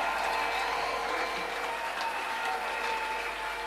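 Congregation applauding in a church service, a steady continuous wash of many hands clapping alone throughout, dense and fairly loud with no speech over it.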